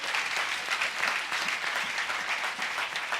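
A church congregation breaks into steady, dense applause that carries on unbroken from start to finish, many hands clapping together at an even loudness with no talk over it.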